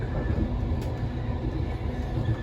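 The 0850 King's Cross passenger train rolls past close by with a steady loud rumble of wheels on rails throughout and no speech.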